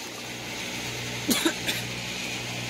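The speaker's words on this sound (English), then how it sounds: "see how she's coughing?" A couple of short, harsh coughs close by, one after another, over a low steady background hum.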